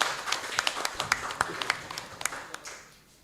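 An audience at a live Banyuwangi broadcast claps in a quiet, scattered burst of hand claps that fades out over about three seconds.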